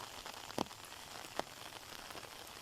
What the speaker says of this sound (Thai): นี่คือเป็นฝนตกตอนเศร้าเด้อพี่น้องอากาศขักหลาย